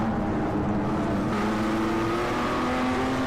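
Race cars in the iRacing sim run nose to tail in a slipstreaming train over a hilltop, a loud steady engine drone with a gradually rising pitch.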